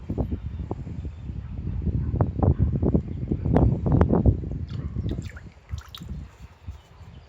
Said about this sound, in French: on verse notre soude dans l'eau